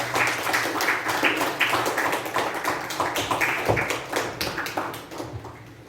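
Audience applause at a youth leaders' YLP event, a steady dense patter of clapping hands that carries on for several seconds before tapering off at the end.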